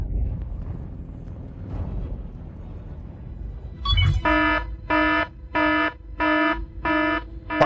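An alarm breaks through a low, murky background about halfway in, repeating as a harsh electronic buzzing tone in five evenly spaced pulses, loud and close, with no speech over it.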